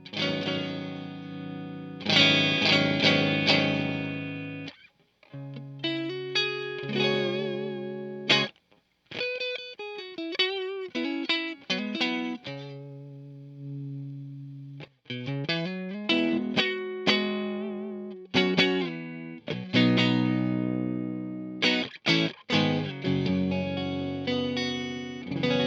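Electric guitar played through an Orange TH30 tube amp set at its lowest volume, with a Captor X output boosted; chords and single notes ring out in bursts with short pauses, sounding slightly gritty with a chorus-like shimmer, no talking.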